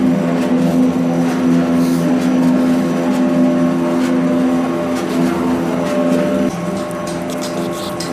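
A desi mustard oil mill machine runs on a single motor, giving a loud, steady mechanical drone with a constant hum and grinding rumble throughout, no voices.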